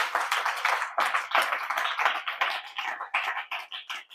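A church congregation claps in praise of Jesus, dense rapid handclaps from many people, steady and lively for the whole stretch, with no voices.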